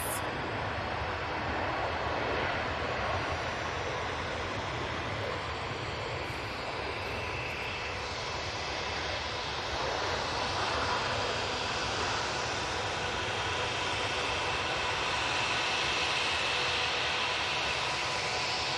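A Malta Air airliner waits at Manchester Airport with its takeoff lights on, ready to depart. Its engines give a steady, broad roar from some distance, unbroken for the whole stretch, with no one talking.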